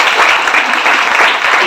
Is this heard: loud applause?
yes